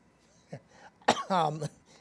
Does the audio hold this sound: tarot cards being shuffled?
no